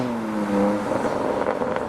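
A chrome turquoise BMW M2 driving past, a brief loud engine note with a falling tonal pitch as it passes close by, followed by rougher exhaust rumble.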